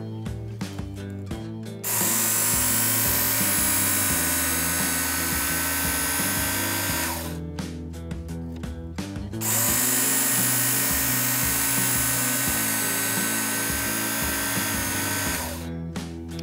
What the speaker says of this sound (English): We're going to stay on one side of the sharpening guide, do 2 strokes, and feel for a burr.